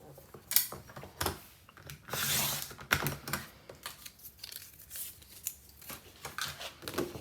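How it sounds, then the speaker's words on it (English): Scissors cutting white cardstock for a scrapbooking layout, close and soft, a series of crisp snips and rustling paper handling with brief pauses between cuts. "So I'll just rotate that and cut the other side."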